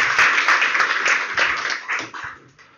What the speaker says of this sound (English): So please, some applause for Mr.